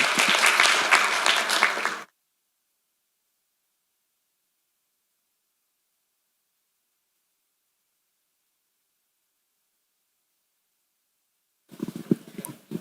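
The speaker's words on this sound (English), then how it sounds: "please join me with big applause" Conference audience applause at an exercise oncology symposium, a dense round of clapping for about two seconds that cuts off into silence before faint noise returns at the very end.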